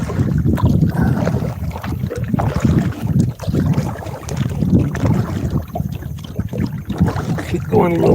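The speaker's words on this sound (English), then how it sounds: "the wind's blowing me backwards" Strong wind buffets the microphone outdoors at Badin Lake near a campground, a loud, continuous rumbling roar with gusty surges, and someone speaks intermittently over it.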